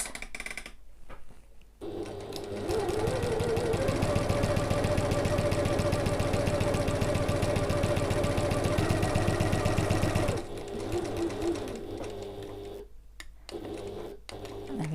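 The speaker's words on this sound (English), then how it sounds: "Sew back up to the next corner." A sewing machine stitches the seam of an evening bag, running in one steady, evenly pulsing stretch of about eight seconds, preceded and followed by softer handling noise and brief pauses.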